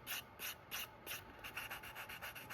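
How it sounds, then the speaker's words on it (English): A mini wallet is sanded by hand in a quiet workshop, with rhythmic, raspy rubbing strokes repeating steadily, about a dozen close, soft scrapes that speed up toward the end. "You can kind of sand that out"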